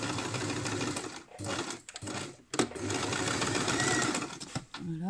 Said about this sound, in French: je couds de bord à bord avec un point d'arrêt